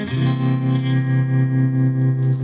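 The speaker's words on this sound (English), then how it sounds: "As you can hear, a little tremolo effect on there." A sustained chord on a 1969 Stratocaster electric guitar rings out with a subtle rhythmic pulsing tremolo, thick and slightly distorted, played alone.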